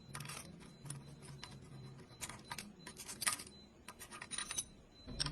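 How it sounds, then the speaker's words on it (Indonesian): Faint scraping and small metallic clicks as a flathead screwdriver pries the cam gear off a motorcycle engine during a block replacement, irregular taps and scratches close up with no talking. "Lalu lanjut lepas gigi sintrik tinggal dicongkel saja menggunakan obeng min."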